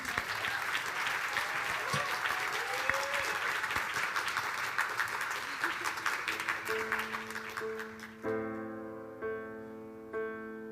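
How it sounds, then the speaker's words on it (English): A crowd applauds everyone at a 2023 celebration, a dense sustained roar of many clapping hands with some voices mixed in, fading out as steady tonal music chords take over near the end. "Applaud for everyone."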